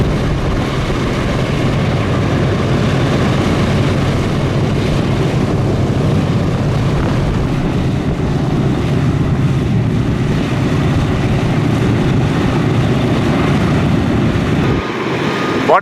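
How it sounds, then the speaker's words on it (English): Four propeller engines of a B-17 bomber, Sentimental Journey, running together at a war air museum, a loud steady droning roar with wind buffeting throughout, close by and continuous before dropping away at the end. "All four engines running now."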